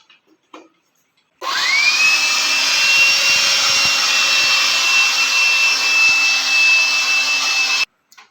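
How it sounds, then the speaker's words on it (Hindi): An electric air blower runs as a vacuum cleaner with a connector attached, starting abruptly into a steady loud whine that holds for about six seconds and then cuts off sharply, close by with no talking. "एयर ब्लोअर का जब हम लोग वैक्यूम क्लीनर तरीके यूज़ कर रहे हैं"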